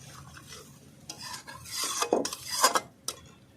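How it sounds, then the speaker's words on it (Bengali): Spice paste of ground coriander sautéed in oil for a jackfruit curry, with close, intermittent scraping strokes of a spoon against the pan over a soft sizzle, growing busier and louder toward the end. "দু থেকে তিন মিনিট ভালো করে মশলাটাকে আমি কষিয়ে নেব"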